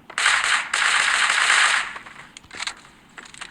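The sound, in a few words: gunfire in the video game Creative Destruction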